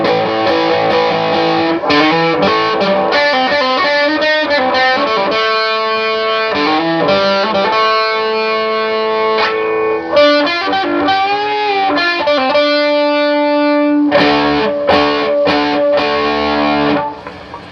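Overdriven electric guitar through a soap bar pickup with distortion plays a continuous lead line with bends and held notes, brighter and clearer in tone, loud and steady.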